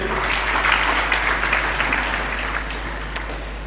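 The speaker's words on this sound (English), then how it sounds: "Another big clap to the chairman." Audience applause for the chairman at an engineers registration board anniversary session, a moderate steady patter of many hands over a low hum, fading slightly toward the end.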